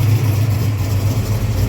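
A 347 engine idles steadily in a car, a close, loud, low rumbling drone that holds an even, continuous pulse throughout.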